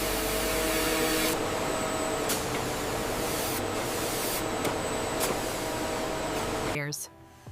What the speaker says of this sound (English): Robotic coating machines apply a transparent protective finish across every leather sheet to improve durability, flexibility,